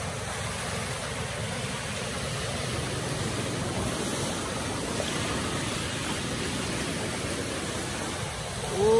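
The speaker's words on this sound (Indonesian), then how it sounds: "Airnya masuk ke darat kawan-kawan, makin dahsyat." Tidal bore on the Seven Ghost river surging onto land and flooding cars and motorbikes: a loud, steady rushing roar of water that holds throughout without letting up.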